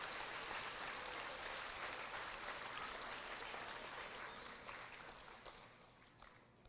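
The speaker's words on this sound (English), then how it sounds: "And now a big round of applause for all those three." A crowd at the 2023 Blue Ridge Elementary awards ceremony claps for three award winners, a thick, sustained round of applause that gradually thins and fades toward the end.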